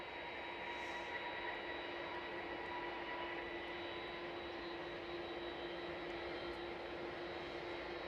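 A Turkish airliner's jet engines hum steadily during departure at Edinburgh Airport, a distant, sustained droning whine with fixed tonal lines and no voices.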